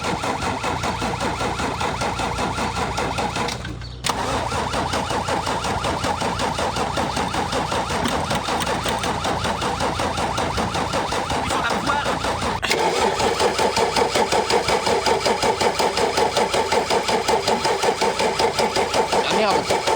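A car engine cranks over and over without catching, a steady droning churn that goes on and grows a little louder near the end, as if from an ignition that isn't making proper contact.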